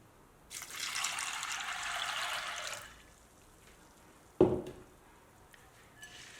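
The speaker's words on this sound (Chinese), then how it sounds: "再加入清水，把黄豆淘洗干净。" Soybeans rinsed in water in a bowl, with a few seconds of close trickling and swishing water, then a brief sharp splash or clunk, and quiet otherwise.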